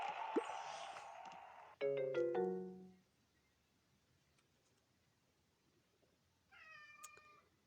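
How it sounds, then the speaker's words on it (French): A nearby cat gives a few short meows: one early, a louder drawn-out one near two seconds, and a quieter final meow near the end, separated by near silence. "Il va bientôt arrêter de miauler."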